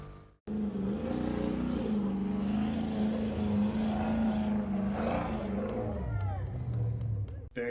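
A performance-cammed, tuned Jeep drives past close by with a steady, loud engine drone. The drone drops in pitch near the end as the Jeep eases off.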